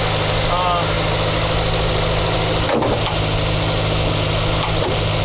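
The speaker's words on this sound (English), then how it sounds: "Just warmed up, so hopefully it'll idle down." A 1984 Chrysler LeBaron's 2.6 carbureted engine idles loudly and steadily up close after warming up, a low throbbing rumble with a few brief knocks and clicks partway through.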